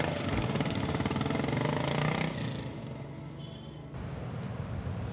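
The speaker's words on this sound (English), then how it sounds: "It's a charming motorcycle with a kind of bustling, grinding soul, on top of which it trembles a bit too." A motorcycle engine runs continuously on Indian roads and tracks with a gritty, grinding, slightly trembling tone. Loud and close, it eases a little midway and then picks back up, with no voices.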